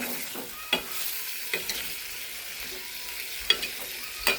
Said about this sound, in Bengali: ভালো করে লাড়বো।